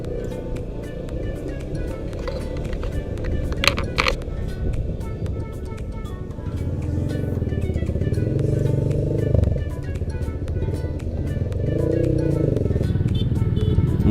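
A 2018 Honda PCX scooter ridden along city streets in Makassar, steady engine drone and road rumble with wind buffeting, a brief clatter early on, continuous and close.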